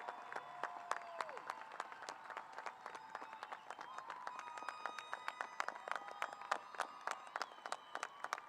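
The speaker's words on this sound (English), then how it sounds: "let's give them all a well-deserved round of applause." Applause from an audience at a middle school promotion ceremony, many hands clapping in a steady patter at a moderate distance for the whole stretch, with no talk over it.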